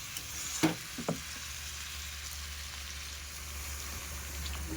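Meat frying in oil at a small night picnic, with water poured into the pan: a faint steady sizzle and hiss throughout, with a couple of soft clinks early on and no talk.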